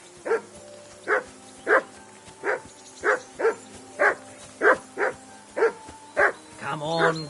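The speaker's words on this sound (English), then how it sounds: "Henry, that barking's driving me nuts." A dog barks steadily and close by in Kingdom Come: Deliverance 2, about a dozen evenly spaced woofs, the last one trailing into a whine.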